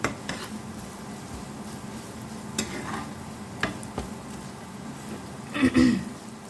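Raw mango is stirred into spiced oil in a pan while making a green mango pickle, with soft scraping and gentle sizzling, a few clacks of the utensil, and a louder rattle of stirring near the end.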